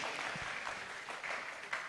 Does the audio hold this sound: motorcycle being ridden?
no